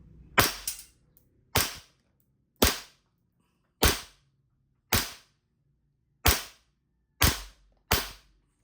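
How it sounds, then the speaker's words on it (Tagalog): An Army Armament R501B gas blowback airsoft pistol fires eight sharp, loud reports at uneven intervals of about one second, each a snappy crack with a short metallic slide clack, close by with silence between shots. "test natin para makita mo yung motion ng unit mo, bossing, pag pumuputok. Ito malakas tong ramdam mo yung blowback nito."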